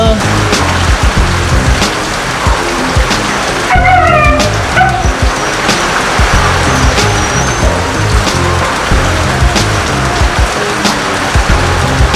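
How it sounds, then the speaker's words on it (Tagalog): A cold dog whimpers and yips in short bursts against a steady background of traffic noise and shuffling, during a typhoon. "Kawawa naman ng aso, lamig na lamig na."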